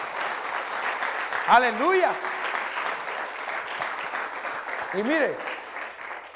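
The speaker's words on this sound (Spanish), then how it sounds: "eso es para que le dé un aplauso fuerte al Señor" A church congregation applauds steadily at a sermon while a preacher's voice rises over the clapping twice with short exclamations.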